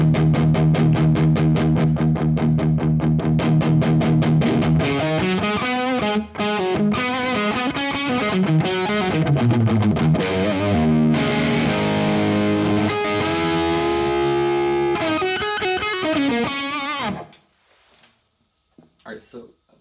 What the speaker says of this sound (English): And I'll just chug along on the E so you can hear the little bit of grit that adds to it.